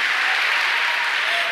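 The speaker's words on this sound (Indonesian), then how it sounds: "tepuk tangan buat kalian" A conference audience claps steadily: a dense, loud wash of applause that holds level for a brief moment.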